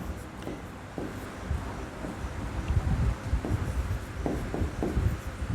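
A pen scratches across paper in short, uneven strokes during a Class 10 maths lesson, faint and close over a background of soft wind-like hiss.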